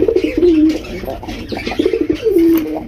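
A black Rajgolla pigeon coos repeatedly in close, throaty phrases, with a few faint chirps and some background murmuring around a bird market.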